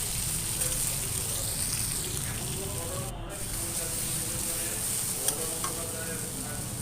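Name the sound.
frying ridge gourd in a pan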